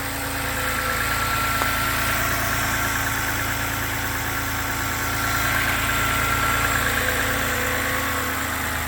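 A 2011 BMW 328i xDrive engine sits at a steady idle, a constant low hum with faint vibration, close and alone without voices.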